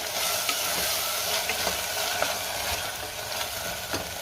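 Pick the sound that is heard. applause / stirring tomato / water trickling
stirring tomato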